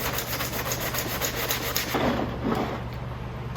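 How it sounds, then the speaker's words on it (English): 100 grit sandpaper roughs up the mating surfaces of a plastic mop bucket, making a continuous, close, raspy scrubbing that stays steady throughout and eases slightly toward the end. "I'm going to take some 100 grit sandpaper. I'm going to rough all the mating surfaces up"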